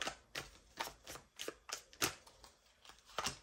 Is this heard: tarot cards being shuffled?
yes